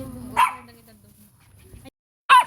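Dogs at a Christmas party for dogs and their caretakers give two short, sharp barks, one early and one at the end, with quieter background murmur between them.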